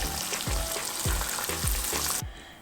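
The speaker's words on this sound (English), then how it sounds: "And continue frying." Chickpea falafel fry in hot oil with a steady loud sizzle, while a few soft knocks and stirs sound from turning them in the pan.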